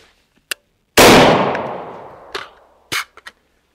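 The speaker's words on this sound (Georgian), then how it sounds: "ამოვალთ, გავისვრით და გავაკეთებთ მერე გადატენვის თანმიმდევრობას" An AR-15 rifle fires one sharp, loud shot whose echo trails off over about a second. Scattered quick metallic clicks and knocks of handling come before and after it.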